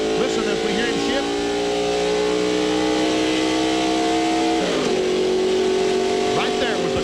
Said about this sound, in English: Listen, as we hear him shift.